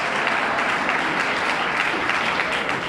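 Audience applause fills a studio at a Seinfeld finale introduction, a dense, steady clapping that holds evenly loud from start to finish with no voices over it.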